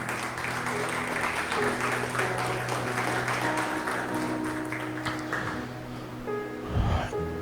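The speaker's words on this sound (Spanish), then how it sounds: "Yo le daría palmas al Rey" A church congregation claps for the King in steady, broad applause that fills the space, with some crowd murmur underneath before it fades toward the end.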